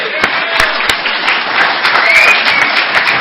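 A convention audience gives a speaker a warm round of applause, a steady, dense patter of many hands clapping throughout, with a few sharper knocks in the mix.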